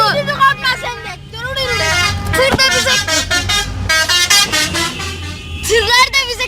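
Car and truck horns blare in a road horn-honking contest, loud overlapping sustained tones that cut in and out, with people talking and shouting close by.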